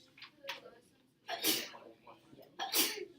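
Two sharp sneezes, loud and close, about a second apart in a quiet room, with faint talk before them.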